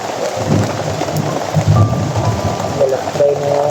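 Heavy rain falls steadily in a downpour, a dense wash of noise with low rumbling swells like thunder, continuous and fairly loud throughout, with no voices.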